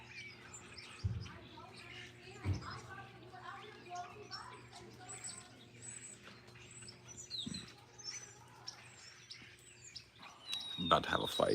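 A crowd of birds chirps outdoors, dense overlapping tweets and twitters running continuously and fairly faintly, broken by a few low thumps and a louder burst near the end, with no clear speech.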